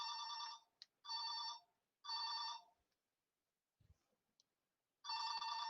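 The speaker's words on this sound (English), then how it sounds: "that's my phone in my house." A home telephone rings in a house, four loud electronic trilling bursts about a second apart with a gap before the last, close by and alone.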